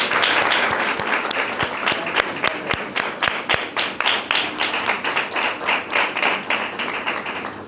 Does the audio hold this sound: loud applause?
yes